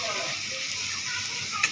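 Cumin and black cumin sizzling in hot oil right after onions have been fried until red, a steady close hiss throughout.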